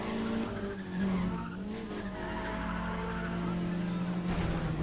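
Racing cars in Need for Speed ProStreet on PC, at the Chicago Airfield, with a loud steady engine drone and tire squeal as a car is chased down, continuous and close throughout.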